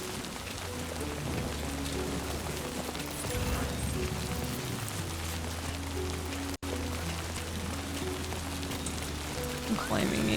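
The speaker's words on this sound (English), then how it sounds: "Even the rain, like the rain effects on the camera" Steady rain patters across surfaces in the video game Death Stranding 2, a dense constant hiss with a low droning hum beneath and a player voice speaking over parts of it.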